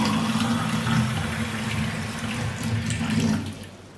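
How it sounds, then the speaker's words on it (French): Cold water pours from a tap into a glass with a steady, close rush that tapers off near the end. "nous remplissons le verre, l'autre verre d'eau froide"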